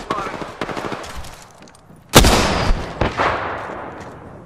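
Gunfire in the Apex Legends video game, with rapid bursts of shots early on, then a sharp loud blast and several more heavy reports echoing away, close and punchy over low game ambience.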